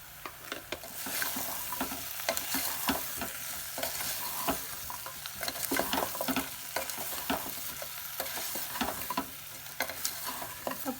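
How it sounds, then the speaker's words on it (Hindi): Pumpkin kumhrauri masala frying in a pan over low heat, with a steady soft sizzle broken by repeated close scraping and clattering strokes of the stirring spoon. "अब कम आँच पर में एकरा बीच बीच चलबै 5 मिनट तक औरो भूज ले के छै"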